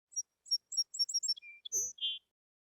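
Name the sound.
little bird tweeting loudly, story sound effect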